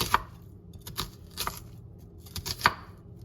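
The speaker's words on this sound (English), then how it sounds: "A good trick for this is making slices into the onion" A knife slices into an onion on a cutting board, giving several crisp, close cuts at an uneven rhythm over a quiet background.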